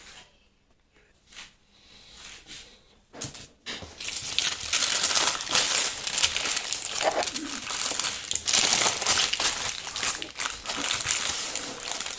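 Packing paper is crumpled and scrunched while an order is packed for shipping, starting as soft rustles and building into a dense, continuous crinkling that runs on steadily.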